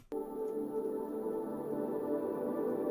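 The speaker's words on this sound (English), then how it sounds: "This pad was made from the loop." A blurred synth pad built from a loop enters abruptly and holds as a steady, dense sustained tone with a slightly smeared texture, alone and even in level.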